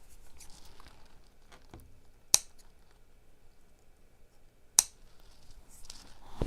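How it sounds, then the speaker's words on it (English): Scissors trim frayed ends for a spring flower wreath, giving two crisp, isolated snips a couple of seconds apart against a faint background of quiet rustling and handling. "If you see any frays, go ahead and cut them off."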